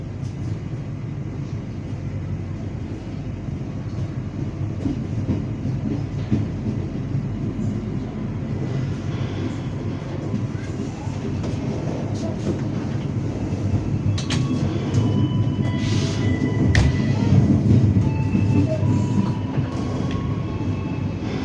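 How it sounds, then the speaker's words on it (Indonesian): Jayakarta passenger train departing a station in Indonesia, a sustained low rumble of rail cars and wheels that gradually grows louder, with scattered clatter and brief higher squeals, heard close and steady. "menunggu sinyal berangkat kereta api Jayakarta"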